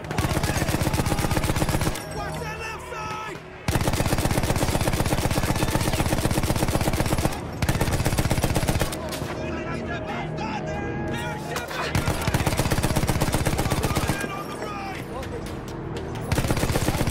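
Rapid automatic gunfire and repeated shots rattle loudly and continuously in a Battlefield 1 World War I battle, broken by brief lulls, with dense combat noise throughout.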